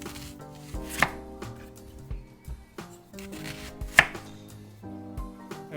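A kitchen knife cuts through a peeled yellow onion on a board, giving irregular crisp chops with slicing rasps between, close and clear with no talk.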